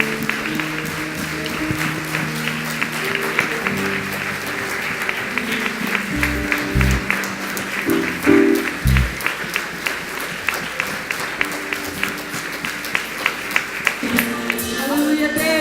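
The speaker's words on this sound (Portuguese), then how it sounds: "Você pode aplaudir o Senhor com vontade?" A church congregation applauds through a long stretch, the continuous clapping layered over sustained music with a few deeper swells and bursts along the way.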